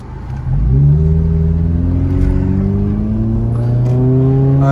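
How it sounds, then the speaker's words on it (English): A car engine revs and accelerates around a corner on a snowy road near Big Bear Lake, California, its rising tone loud and close, holding steady for several seconds. "waiting for all the traffic. They're flying around this corner."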